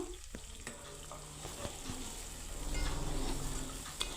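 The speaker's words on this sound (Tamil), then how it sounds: "பெரிய வெங்காயம் ஒன்று கட் பண்ணி வச்சுருந்தேன் அதையும் இப்போ அது கூட சேர்த்து நல்லா வதக்கிக்கலாம்" Oil sizzles steadily as chopped onion and garlic fry in a pan, with occasional stirring clatter and a swelling hiss midway.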